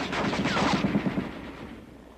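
Heavy machine guns fire in a quick rattling burst in 1944 wartime training footage, the shots rapid and close before fading out.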